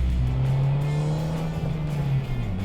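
A 2013 Fiat 500 Abarth's 160-horsepower engine in sport mode makes a steady, loud, close drone that holds its pitch throughout, with no talking over it.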